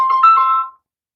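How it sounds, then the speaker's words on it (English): A mobile phone gives a short, clear electronic ring, a single bright melodic burst lasting under a second before cutting to silence. "Oh, it's my phone."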